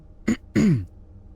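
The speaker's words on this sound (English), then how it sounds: "You guys might hear me clear my throat every now and again." A person with a strained, irritated voice clears their throat twice, a short rasp followed by a longer harsh cough-like clearing, close and isolated against quiet background.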